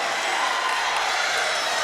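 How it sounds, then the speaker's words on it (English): A crowd at a 2005 boys volleyball championship between Taft and Chatsworth cheers in a brief, steady roar of voices, a dense wash of noise with no single voice standing out. "Look at the crowd getting into it."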